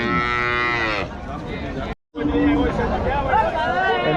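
A cow moos loudly and drawn-out at a busy cattle market for cows and buffalo, followed by a second long moo after a brief gap, with crowd chatter and voices behind.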